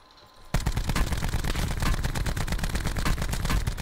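A sudden loud burst of sustained automatic gunfire in a shooter match, rapid shots rattling continuously after a quiet start, with no talking over it.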